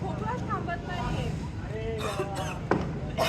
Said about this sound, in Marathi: यांना 2 दिवस झाले, खोकलाच थांबत नाहीये